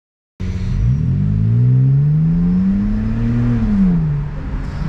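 A BMW E60 sedan accelerates hard, recorded from inside as a passenger: the engine roars up steeply in pitch, holds a loud sustained rising note, then eases off briefly before the revs drop.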